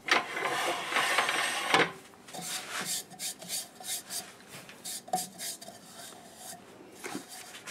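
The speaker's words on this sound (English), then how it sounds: "Let me get the tool rest out of the way and we'll sand." A walnut bowl is sanded on a wood lathe with a small disc, giving a close, steady rasping rub that breaks into short scratchy strokes and taps.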